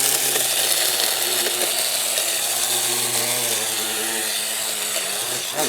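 Food processor motor grinding nuts into a homemade spread, a loud steady whirring drone with a chattering rasp that runs continuously for the whole stretch.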